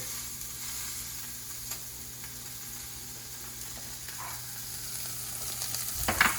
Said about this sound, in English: You want to hear that sear.